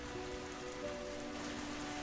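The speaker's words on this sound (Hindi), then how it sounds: "दोनों बारिश में निकल पड़े।" Steady rain falling on a surface, a continuous even hiss with faint patter, heard alone with no voices.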